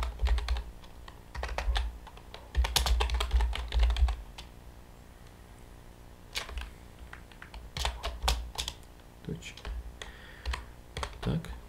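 Typing on a computer keyboard while writing Android code, a steady run of close, crisp key clicks in bursts and pauses, with no talking over it.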